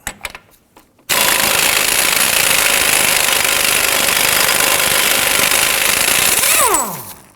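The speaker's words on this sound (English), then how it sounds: "Going to use our 32mm socket, loosen and remove our axle nut." Loud, continuous rattling hammer of an impact wrench loosening a 32mm front axle nut on a 2008-2011 Ford Focus, running steadily for about six seconds after a few quiet clicks, then winding down.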